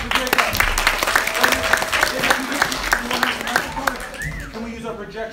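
Students at a speech and debate school assembly give a steady round of applause, loud and continuous throughout, with overlapping voices and cheers mixed into the clapping.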